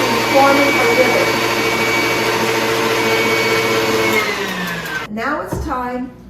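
An electric mixer whirs loudly and steadily while beating eggs and sugar into a ribbon-thick batter for nut bread, then winds down and shuts off near the end with a brief clatter.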